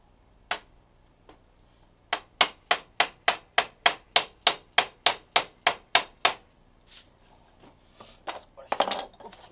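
Small hammer driving nails into a wooden airsoft target: a steady run of about fifteen sharp, evenly spaced strikes, close and loud, followed by a few scattered knocks and handling noise.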